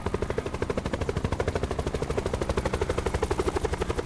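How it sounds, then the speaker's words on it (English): A helicopter flies in the Black Ops 4 Blackout video game, its rotor beating in a fast, even pulse that is loud and near throughout, heard alone. "we are flying a helicopter"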